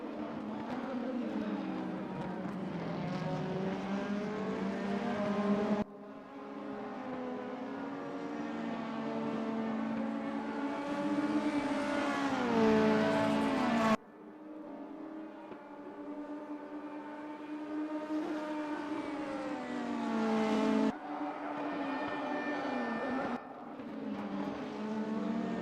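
Race cars lapping the circuit at Chang, Thailand, their engines whining and shifting pitch as they pass in waves, fairly distant and steady with abrupt cuts between passes.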